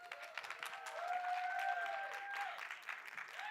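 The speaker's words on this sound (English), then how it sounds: "please give her a massive round of applause." An audience at a COP28 hangout session on food, agriculture and water claps steadily for a host coming onstage, sustained applause with a few raised voices and faint tonal sounds mixed in.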